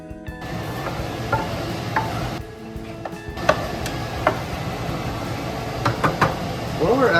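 Rehydrated cranberries being mashed in a pan for cranberry sauce, with soft wet squelching, scattered knocks and scrapes of the utensil against the pan and a faint sizzle, while a person talks.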